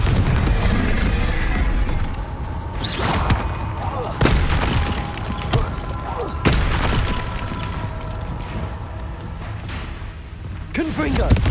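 Repeated booming spell blasts from the Confringo fire spell in Hogwarts Legacy, sharp loud impacts every second or two over dense game noise and mechanical clatter, with a voice calling out among them.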